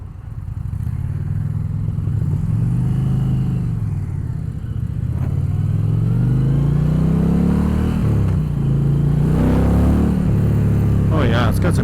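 An Indian Challenger Limited motorcycle cruising and accelerating through the gears on a road in Texas, a loud, close engine rumble with rising and falling revs, continuous wind noise throughout.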